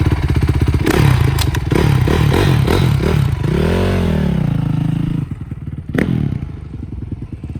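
A dirt bike engine starts with a thump and clatter, then runs and revs loudly up close, rising in pitch and settling back into a rough idle.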